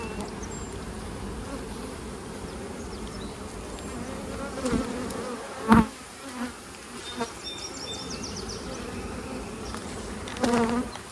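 Honey bees hum steadily around an open hive during an inspection, a continuous close buzz with a few louder passes and brief handling knocks.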